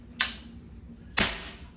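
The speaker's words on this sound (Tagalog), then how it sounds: "Yan, putok natin. Pakinggan nyo, napakahina." Two weak shots from an SPMC frame-type CO2 air rifle, each a short, soft crack followed by a brief hiss, about a second apart. The shots are outdoors with light background noise and no voices.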